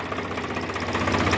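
Swaraj 744 FE tractor engine, warm after work with a 14-disc harrow, running steadily with a dense, even mechanical drone and rapid knocking pulses, loud and close with no talk.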